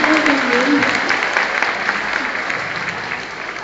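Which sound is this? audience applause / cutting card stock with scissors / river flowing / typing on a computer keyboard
audience applause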